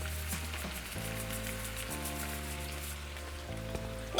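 Meat for tacos de alambre sizzles steadily in a pan, a continuous close crackling hiss like light rain, with faint background music and no talking.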